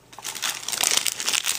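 Paper wrapper of an oat and apple snack bar being pulled off, a close, brief burst of crinkling and crumpling that builds over under two seconds.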